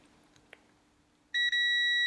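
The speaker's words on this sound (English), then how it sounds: "And there it is, it's beeping." After a quiet moment with a faint click, a multimeter continuity test on a Game Boy Color power switch sounds a loud electronic tone: a short beep, a brief gap, then a sustained steady beep.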